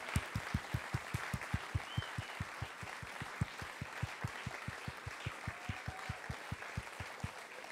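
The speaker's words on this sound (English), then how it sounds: "Let's give a hand of applause for Bojan, our Feldman." An audience at a concert launch claps for the performers of a new composition, a steady, evenly paced run of individual claps that sounds fairly faint and distant and carries on alone.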